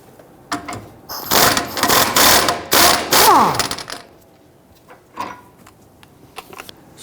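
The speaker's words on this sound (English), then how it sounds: "Let's go ahead and loosen and remove that bolt completely now." A bolt is loosened and removed from a Ford Taurus rear suspension: several bursts of ratcheting and mechanical clatter, close and loud, followed by quieter scattered clicks and taps.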